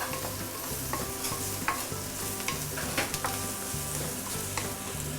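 Pork belly is stir-fried with spices, ginger and garlic in a hot pan. It gives a continuous close-up sizzle broken by repeated scraping and tossing strokes of the spatula, with no talking.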